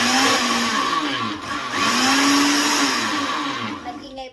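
A blender whirs loudly and steadily for a few seconds making an avocado shake, its motor pitch dipping and rising as it churns thick contents, then cutting off.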